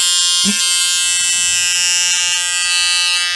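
A high-pitched electric nail drill whines steadily, with a brief clunk and pitch shift near the start as it changes direction.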